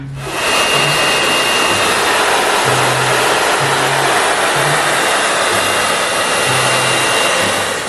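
A hair dryer blows a loud, steady stream of air at close range, a constant broadband whoosh with faint low hums coming and going underneath, and no talking.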